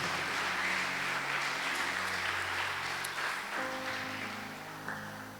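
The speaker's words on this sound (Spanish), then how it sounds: "Dale un aplauso al Señor si lo crees." A church congregation applauds for several seconds, a dense steady clapping that fades slightly toward the end, with a faint tonal hum beneath.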